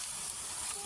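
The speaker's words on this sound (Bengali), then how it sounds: "এখানে দেখতে পাচ্ছেন আমি মশলা কষাচ্ছি, মাছ রান্না করব" Spices frying in a hot pan as the base for a fish curry give a steady, close, continuous sizzle with a bright hiss throughout, alone and without talk.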